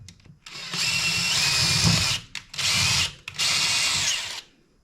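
A power drill bores out a pop rivet in three loud bursts of high whine, each lasting about a second and broken by brief pauses, then the motor cuts off.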